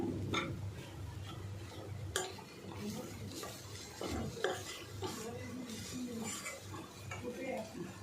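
A spoon scrapes and knocks around a pan as jaggery is stirred into mango pulp with ghee and coconut, giving a busy, repeated clatter over a light sizzle close by.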